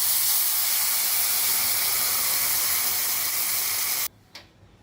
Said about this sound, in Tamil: இதில் புளி கரைசலை விடணும்.